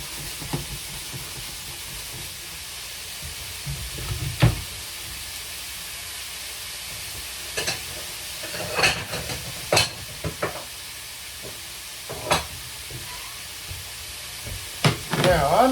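Pineapple fried rice fries in a smoking-hot pan with a steady, soft sizzle. Sharp scrapes and clatters of stirring break through at irregular moments.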